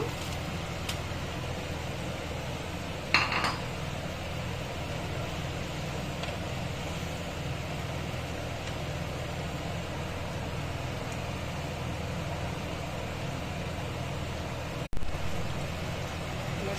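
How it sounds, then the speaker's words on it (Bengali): Spice masala for a vegetarian raw banana kofta curry is sautéed in a pan, giving a continuous, even hiss of frying with a couple of faint clinks. "খুব সুন্দরভাবে মশলাটা কষানো হচ্ছে"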